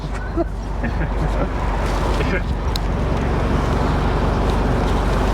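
A 1981 Triumph TR7 Convertible driving along the seafront, its engine a steady low drone under constant wind and road rush, with people talking throughout.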